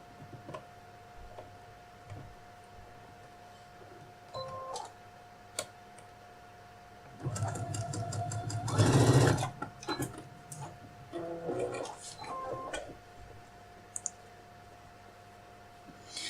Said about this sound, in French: je fais ma couture là où j'ai mis mon épingle repère